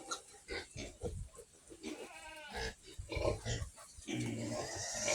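Native pig piglets with their sow on a Philippine farm after starter-feed feeding, a close chorus of squeals, grunts and oinks, intermittent and busy throughout.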